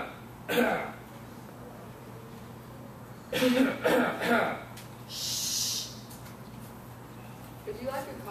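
Dry, throaty coughing close to the mic: a single cough near the start, then a quick cluster of three in the middle, with a soft breathy sound and a brief voice near the end.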